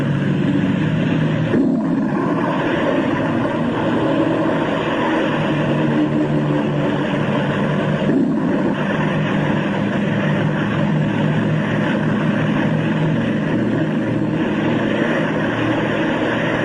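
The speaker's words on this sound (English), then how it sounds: "They must risk a takeoff in darkness before the terror of the storm strikes." Propeller planes take off in darkness on the Antarctic ice, their engines a loud, steady, continuous drone that holds for the whole stretch with no voices.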